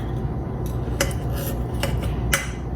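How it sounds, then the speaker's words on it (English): A knife cuts butter into smaller pieces: three or four distinct clicking, scraping cuts against a surface, close and clear over a steady low hum, with no talking. "I'm going to cut this up with a knife into smaller pieces so it can melt a little faster"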